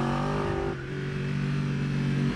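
Yamaha R1 (2015+) sport motorcycle engine on a race track, a loud steady close-up drone whose pitch drops sharply partway through as the rider downshifts to first, then holds at a lower steady tone.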